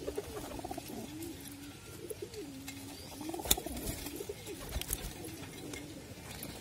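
Pigeons, Gola breed birds kept in a rooftop loft, coo repeatedly in soft looping phrases close by, with a few faint chirps and light background noise.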